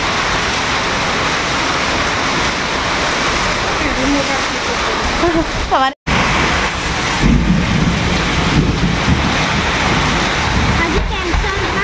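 Heavy monsoon rain pours down steadily as a loud, dense wash with no break, and a voice is heard over it.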